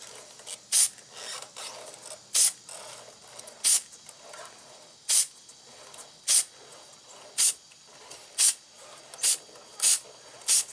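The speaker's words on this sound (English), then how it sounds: "You're going to do it about every inch, or every other couple of links are going to get sprayed" Short hissing bursts of chain lubricant sprayed onto a chain during adjustment and maintenance, about ten evenly spaced spritzes roughly a second apart, close and fairly loud over quiet ticking of the chain being turned.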